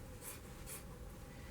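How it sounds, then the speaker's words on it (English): Scissors held flat slide down a fabric fold line while cutting material for a hard valance board, giving a quiet, steady scratchy snipping texture with faint repeated bright swishes, no voices. "holding the scissors flat, I'm just going to run down that fold line"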